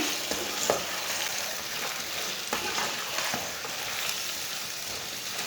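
Taro root (arbi) frying in a pan with lightly browned onions for arbi salan: a steady, close sizzling hiss with brief stirring scrapes, and no voices.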